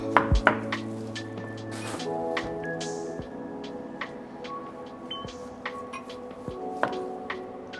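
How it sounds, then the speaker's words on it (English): A sharp knife slices through peeled pineapple in irregular close cuts and soft thuds against a board, with a faint hum underneath and no voices. "I just want to get off most of the skin, and then we'll just get into the cutting"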